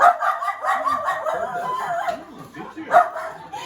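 A dog barks and yips repeatedly at close range, in short uneven bursts, at a stand-up comedy show.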